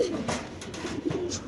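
Pigeons cooing at a pigeon farm, a few soft low coos close by, with faint background noise between calls.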